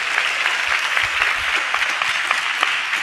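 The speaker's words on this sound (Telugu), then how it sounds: "గట్టిగా చప్పట్లు కొడుతూ స్తోత్రాలు చెప్దాం" A church congregation claps loudly and continuously, a dense, steady wash of applause filling the space from start to end, close and bright, with no talk over it.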